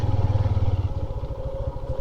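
Motorcycle ridden slowly over a sandy mountain road on the way from Skardu to Khaplu in Gilgit Baltistan, its engine thrumming in a steady low pulse, loud and close, with faint scraping beneath.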